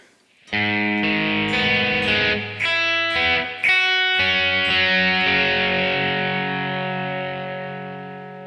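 A distorted electric guitar plays a riff, loud and close, as a run of picked, echoing chords that rings out and slowly fades at the end.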